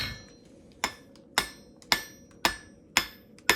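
Blacksmith forging a three-dimensional horse head, hammering hot metal on an anvil: six sharp, ringing hammer strikes in a steady rhythm about half a second apart, close and clear, with no voices.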